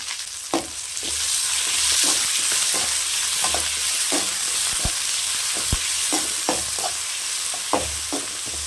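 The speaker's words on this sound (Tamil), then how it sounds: "நல்லா செவக்கிற அளவுக்கு வதக்கி விடுங்க மூணே மூணு பச்சை மிளகாய் சேர்த்துக்கலாம் சின்ன வெங்காயம்" Green chillies and small shallots sautéing in oil in a pan for a chicken fry, a steady close sizzle broken by repeated scraping stirs of a spoon against the pan, with no voices.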